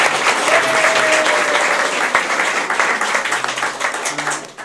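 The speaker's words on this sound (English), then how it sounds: "A round of applause for Andrew Kepple." An audience claps for Andrew Kepple at a live tabletop roleplaying show in a room, a loud, steady wash of applause throughout with a brief voice underneath.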